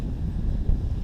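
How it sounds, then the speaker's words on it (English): Steady wind roars across the microphone on an exposed mountain ridge trail on Mt. Mansfield, a continuous low buffeting rumble with gusts swelling and easing, no voices over it. "The wind's better already, which is nice."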